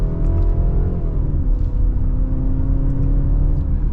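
A 2025 BMW X3 xDrive30 pulls away in second gear in sport mode, its engine droning low and steady from inside the cabin as pitch dips briefly and then holds through mild acceleration.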